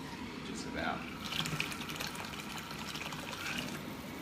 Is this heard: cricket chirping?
no